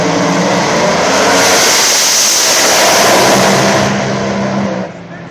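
A drag racing car tears down the racetrack at a PDRA World Finals eliminations event, a loud, sustained engine roar filling the scene for about five seconds before cutting off abruptly near the end.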